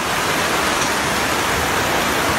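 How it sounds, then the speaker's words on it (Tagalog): A steady, dense roar of heavy typhoon rain in Albay, Philippines, broad hissing noise without pause and no voices. "Ang lakas ng ulan."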